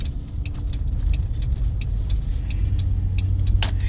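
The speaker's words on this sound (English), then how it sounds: "my truck's back together, brakes are working. That's what I'm driving right now" A pickup truck with freshly repaired brakes drives along, its steady low engine rumble and road noise constant and close throughout, with faint ticking sounds above.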